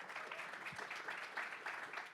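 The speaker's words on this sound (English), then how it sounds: "you can give a round of applause for that." Faint, distant audience applause at a talk event, a steady wash of many clapping hands for about two seconds, low in level.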